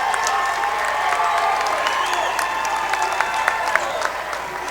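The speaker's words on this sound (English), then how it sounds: "Good cheer from the crowd here." Spectators at a high school boys varsity basketball playoff game, Fair Haven vs Harwood, clap and cheer in a gym, a steady wash of applause with scattered sharp claps under a commentator's voice.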